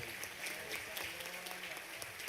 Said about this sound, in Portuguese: E uma salva de palmas para o nosso pastor.